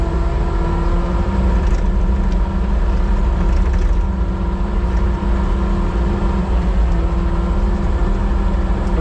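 Kubota SVL75-3 compact track loader with its engine running at a steady, loud, close drone and a constant mechanical whir throughout, with no clear surges in revs.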